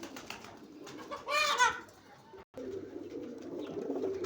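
A pair of teddy pigeons gives a short, soft, throaty coo near the mic, rising over a low background murmur before falling quiet.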